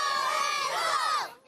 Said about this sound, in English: with many cheering on the home team